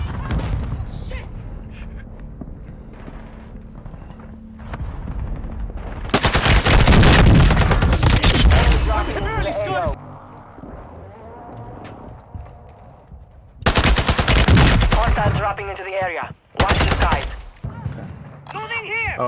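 Video game gunfire on Ashika Island, loud bursts of rapid automatic fire in two or three long volleys with gaps between them, while players talk over comms in the quieter stretches.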